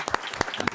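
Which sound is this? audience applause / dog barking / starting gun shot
audience applause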